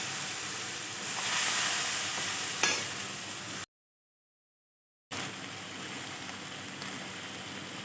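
Ginger, onion and chili paste frying in a pan for a fish curry, giving a steady broad sizzle with a brief stir near the middle, then a gap of silence before the sizzling resumes.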